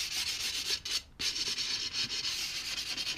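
Abrasive rubbing strokes of a diamond sanding block scrape back and forth across a sharp glass edge, close and steady, with one brief pause partway through.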